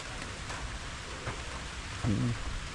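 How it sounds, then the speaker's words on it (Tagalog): Steady typhoon rain falls outdoors over rice fields in a continuous hiss, with a brief low voice murmuring faintly near the end. "Ay, umuulan na naman"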